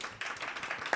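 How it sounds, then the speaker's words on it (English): Brief applause at a public forum in New York, a scatter of hand claps from a modest audience, quiet and somewhat distant, over about a second. "Round of applause, please,"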